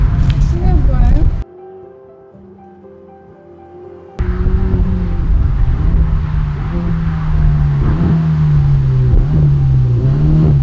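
A Ferrari 488 pulls up outside, its engine droning and rising in pitch after a brief quiet gap, loud and close, with voices mixed in.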